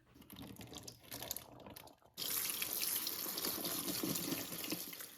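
Tap water runs into a sink to rinse chickpeas during home cooking, a soft rattle and clatter at first, then a steady close splashing stream that continues to the end.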